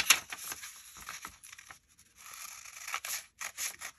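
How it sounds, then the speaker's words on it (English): Scissors snip and slice through decorative damask paper while trimming an altered envelope, a run of crisp close cuts with short pauses between strokes. "then I'll just cut through this."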